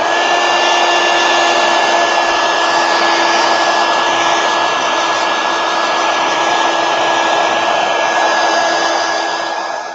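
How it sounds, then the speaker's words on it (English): Heat gun blowing hot air to dry watercolor paint on washi sticker paper, a loud, steady whooshing roar with a faint whine that runs unbroken for the whole stretch before easing slightly at the end. "heat gun."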